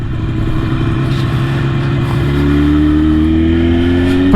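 A Jawa 350cc two-stroke motorcycle is ridden with its engine holding a steady, buzzing drone. Partway through, the pitch lifts as it pulls on low-down torque, loud and close throughout with no voices.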